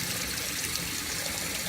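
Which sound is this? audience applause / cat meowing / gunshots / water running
water running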